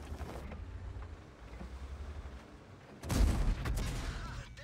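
Tank gunfire in the online game World of Tanks, a heavy boom erupting partway through over a steady low rumble of engine and wind-like ambience, the shot loud and close before decaying into noise.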